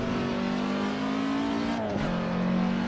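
Race car engines droning steadily around the short Brands Hatch Indy circuit, a sustained hum with a shift in pitch near the middle as a car passes, no voices.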